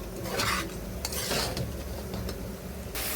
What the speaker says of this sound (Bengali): চালটা দেখবেন যে যেরকম মানে ছন ছন একটা আওয়াজ হবে, তখনই বুঝবেন চালটা ভাজা শেষ হয়ে গেছে